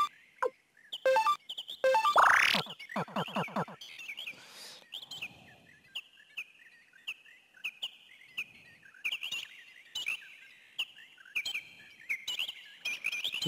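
Birdsong from the video game Suikoden II: repeated high chirps and trills recurring steadily in short bursts, with brief sweeping calls and soft background ambience, no talking.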